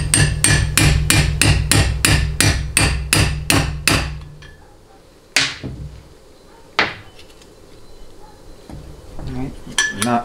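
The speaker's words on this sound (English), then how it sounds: "I'm going to use a 13 millimeter socket, and this will allow me to tap it in." A 13 mm socket taps a part into a 1999 4L80E transmission valve body, a quick run of about a dozen sharp metallic knocks followed by a few slower, separate taps, close and loud.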